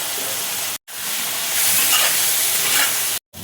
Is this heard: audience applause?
no